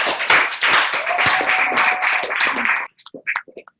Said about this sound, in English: So give her a big round of applause.